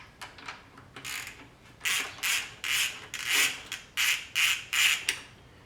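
A ratchet wrench clicks in repeated bursts while loosening 8 mm bolts on a Subaru WRX STI, about ten close strokes in a steady rhythm with no talk.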